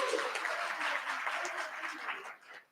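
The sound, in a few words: audience applause at a mayoral candidates debate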